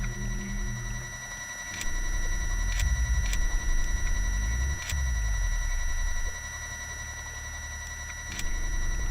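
Spiders clicking in the video game Deus Ex: sharp, sparse clicks ring out over a low droning game ambience, a handful of brief ticks spaced irregularly across the clip.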